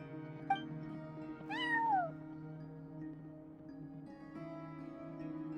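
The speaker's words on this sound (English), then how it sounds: "No one except for a cat watching over the front desk." A cat's single rising-then-falling meow in a video game, heard at the front desk of an inn over a steady musical drone with soft chimes.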